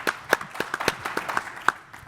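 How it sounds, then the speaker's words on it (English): Scattered audience applause at a panel discussion on global cities, a sparse handful of individual sharp claps at an uneven pace, nearby and light rather than a full ovation. "Let's give him a round of applause."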